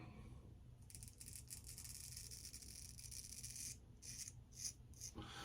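A close, steady raspy buzz of an electric razor cutting through stubble, with brief gaps and a few louder scraping passes toward the end.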